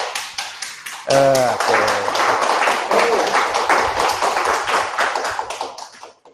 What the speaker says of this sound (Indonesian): Tepuk tangan untuk panitia kita.